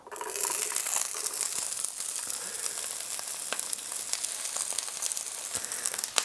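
Onions frying in olive oil over medium heat give a close, crackly sizzle with scattered sharp pops and crinkly bursts, sustained evenly for several seconds without any talking.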